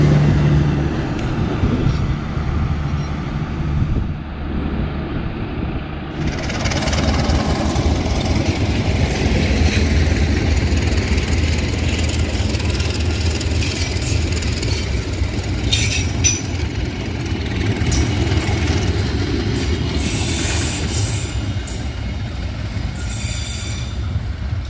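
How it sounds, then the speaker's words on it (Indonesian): A passenger train bound for Surabaya Gubeng rumbles past near Jatinegara, loud and close, its wheels squealing and clattering over the rails in a sustained roar that shifts midway as cars pass. "Kereta jurusan Surabaya Gubeng"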